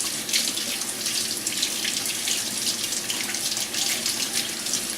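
Running tap water splashes steadily over food being washed in a kitchen sink for a steak dinner, a constant close hiss with no voices.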